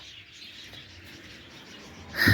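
Faint chirps from parrots and their chicks drift through an aviary at breakfast time, soft and distant, before a short loud clatter at the end.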